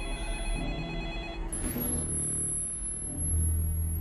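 A telephone rings in the horror film The Ring, a steady electronic ring over a low rumble of background sound that swells near the end.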